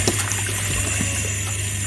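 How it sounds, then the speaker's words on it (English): Tap water runs steadily over kale in a kitchen sink, a continuous close splashing stream with no talking. "So just run water on it."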